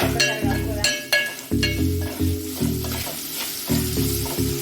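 Chickpeas (kabuli chana) fry in an oil-filled pan for a curry, giving a steady loud sizzle broken by repeated bursts of stirring and scraping with faint utensil clinks.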